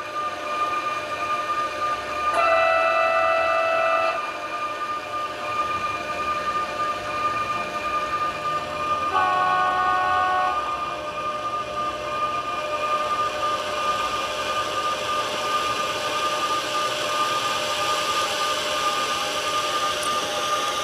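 A model locomotive fitted with a roughly 12-year-old 8-bit Zimo sound decoder runs with a steady synthetic diesel-style drone and tonal whistle or horn blasts, two short toots about seven seconds apart, no talking.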